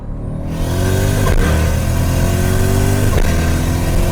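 A turbocharged 3UZ V8 in a Lexus GS pulls hard in second gear, the engine note climbing steadily and loudly with a brief dip and crack between surges, heard close from inside the car with no talking.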